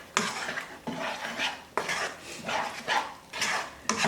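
A spoon stirring masala in a pan for methi matar malai, repeated scraping strokes in an irregular rhythm with a faint sizzle underneath, close and moderately quiet.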